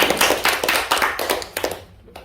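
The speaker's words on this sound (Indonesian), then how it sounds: "Ayo tepuk tangan saudara ya." Church congregation applauding: a burst of dense hand claps that starts strong, thins out and fades over about two seconds, heard alone without talk.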